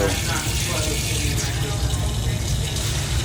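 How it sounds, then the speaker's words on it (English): Water pours steadily from a tap into a pot of vegetables for chicken soup, a continuous rushing fill sound, close and fairly loud, unbroken for a few seconds. "we're gonna just cover the vegetables a bit. And you don't want to add too much water."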